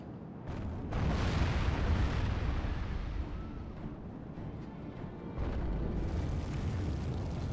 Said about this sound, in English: Come on, catapults.